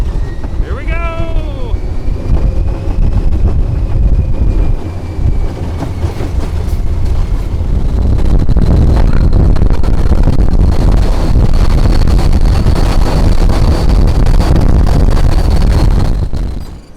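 Strong wind roars past the microphone on the Test Track ride at Epcot, a heavy, buffeting rush that builds and stays loud under a fast-moving vehicle, with a few brief electronic tones near the start.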